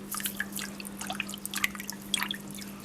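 Water in a Dennerle 60-litre nano aquarium trickles and drips in quick, irregular plinks over a steady low hum from the tank equipment.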